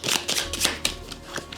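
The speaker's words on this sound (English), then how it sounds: "so I have to shuffle the discard pile." Playing cards from the discard pile shuffled during a tabletop game of Kelp, a series of quick riffling bursts and soft slaps, close and fairly quiet, with no talk.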